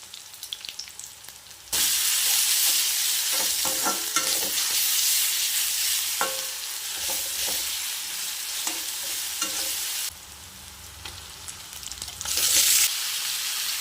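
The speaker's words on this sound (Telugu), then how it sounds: "ఆయిల్లో ఉల్లిపాయ ఇంకా పచ్చిమిర్చి అండి, కొంచెం అల్లం వెల్లిగడ్డ పేస్ట్," Onion, green chilli and ginger-garlic paste fry in hot oil for a dry yellow chicken dish, giving a loud, steady close-up sizzle with occasional stirring scrapes. The sizzle eases briefly before swelling again near the end.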